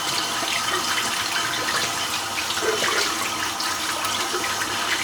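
Steady running water pours continuously from a tap while a shaving brush is rinsed out, a loud, even rush without pauses.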